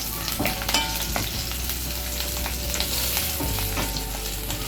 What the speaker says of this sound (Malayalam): ഒന്ന് വഴണ്ടി വരുമ്പോൾ നമുക്ക് ഈ ഉണക്കമുളക് ഇട്ട് കൊടുക്കാം.